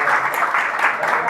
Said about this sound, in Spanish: Un aplauso al candidato.